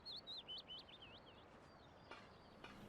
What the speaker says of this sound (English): Ah, those morning bird sounds.